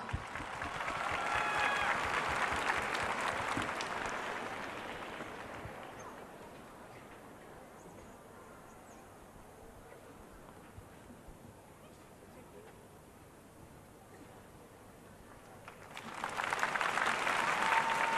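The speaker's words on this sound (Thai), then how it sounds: "ขอเสียงปรบมือด้วยครับ" A crowd at a televised Thai singing competition finale claps loudly for several seconds, the applause fades to a low murmur of room noise, then swells again into strong clapping near the end.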